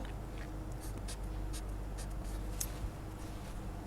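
Pen or chalk writing out an expression during a physics lecture on dielectrics, a soft continuous scratching with faint repeated strokes, close and alone with no talking.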